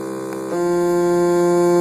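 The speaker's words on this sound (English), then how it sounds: "all I'm doing is changing the frequency value on the oscillator" A steady synthesized oscillator tone pitched at the note C2, generated in ToneJS, holding as a continuous harmonic drone for about two seconds and jumping louder and fuller about halfway through, with no talking.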